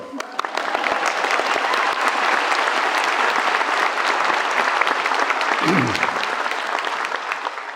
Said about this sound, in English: So there, you could applaud.